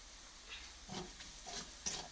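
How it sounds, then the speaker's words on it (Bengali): Garlic frying in oil in a home kitchen, heard as a quiet, steady sizzle broken by several soft stirring scrapes, close by with no talking. "আমার এখানে রসুনটা ভাজা হয়ে গেছে"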